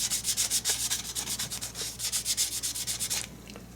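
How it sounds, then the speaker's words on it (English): A cloth soaked in isopropyl alcohol is rubbed back and forth over the metal cooler surface of a Lenovo ThinkPad T430, producing a close, rhythmic scrubbing swish at a quick steady pace. "We're going to rub it with our isopropyl alcohol."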